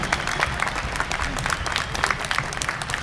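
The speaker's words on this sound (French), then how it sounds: "Allez, applaudissements encore, là." Audience applause at a fan convention in Toulouse during an actor panel, steady dense clapping from a large crowd throughout, fairly close and continuous without a break.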